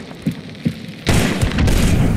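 A loud gunshot blast in the video game Hunt: Showdown, a sudden heavy boom after a couple of softer thuds, followed by a sustained rumbling tail; no speech.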